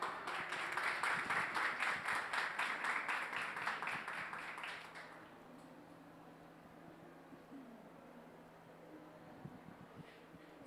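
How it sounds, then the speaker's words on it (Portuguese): Audience applause for a panel speaker at a startup conference, a dense burst of many hands clapping for about five seconds before it stops abruptly, leaving quiet room tone. "Diógenes Reis, uma salva de palmas."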